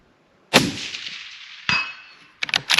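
Gunshots striking steel shooting targets with unpainted faces at an outdoor range: three sharp metallic clangs, the first ringing out long before the second hit, then a quick ragged cluster of impacts at the end, no talk.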